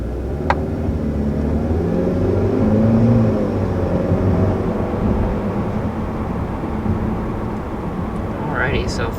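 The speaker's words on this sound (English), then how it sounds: "So first, taking off in the A3, definitely has plenty of grunt off the line." A 2019 Audi A3 sport sedan pulling away from a standstill, heard from inside as a low, steady engine drone that builds slightly then levels off under someone talking.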